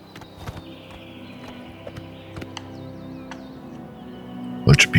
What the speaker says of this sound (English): We'll stable our horse